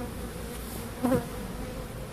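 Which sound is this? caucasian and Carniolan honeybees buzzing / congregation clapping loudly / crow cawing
caucasian and Carniolan honeybees buzzing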